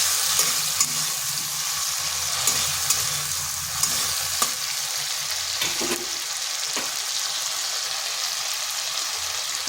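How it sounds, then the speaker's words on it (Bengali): Spices and ginger sizzle in hot oil in a pan for a vegetarian soybean curry, with a loud continuous fry hiss and intermittent scraping taps from stirring close by. "এটা একটু কষে নিলাম যাতে আদার গন্ধটা চলে যায়"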